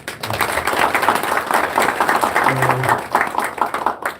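An audience applauds at the founding assembly of a Korean trade union federation, dense steady clapping filling the hall for several seconds with voices mixed in underneath.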